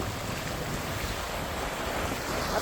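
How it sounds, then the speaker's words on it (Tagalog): Red Sea waves wash steadily onto a sandy shore at Jeddah, Saudi Arabia, a continuous broadband surf rush mixed with wind buffeting the microphone, with no voices. "Ito po ang dagat dito sa Jeddah, Saudi Arabia,"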